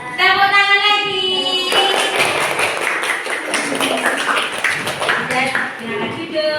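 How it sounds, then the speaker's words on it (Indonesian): A group of people in a coaching session applauds after a song, a short burst of scattered hand claps that sets off sung or spoken voices and fades as talking goes on. "Tepuk tangan lagi."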